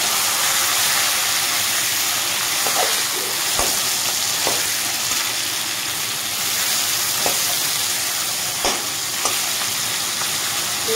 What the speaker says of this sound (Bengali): মাথাটাকে আমি উল্টে দেবো। দেখো একটা একটু লাল হয়ে ভাজা হয়ে গেছে